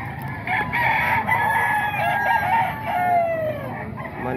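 A rooster, a gamefowl of about seven months, crows in a long drawn-out call in rainy weather, fairly close and clear, with little else around.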